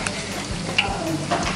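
Dozens of catfish fry in hot oil with a steady, loud sizzle and crackle, close up and continuous, with faint occasional stirring or utensil clicks.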